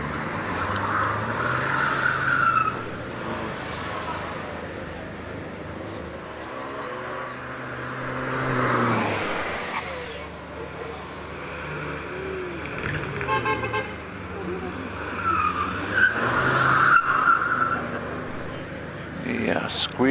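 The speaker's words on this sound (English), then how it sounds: "Squeal of tyres coming from Alistair Moffat's Skoda as he comes towards the end of his run." A Skoda Fabia rally car on the Prescott hillclimb, with engine noise and tyre squeal at the end of its run under steady live commentary.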